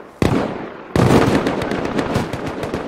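Rapid bursts of rocket explosions tear through a video game raid, one sharp blast followed by a louder barrage of crackling detonations and dense repeated impacts, close and loud.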